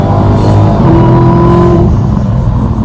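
A Dodge Demon muscle car launches at full throttle, its loud, close engine roaring steadily with rising tonal harmonics for about three seconds, no voices over it.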